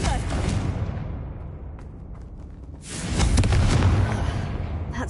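The Confringo explosive spell from Hogwarts Legacy lands as a broad rumbling blast with a crackling tail, following a quieter stretch of game ambience.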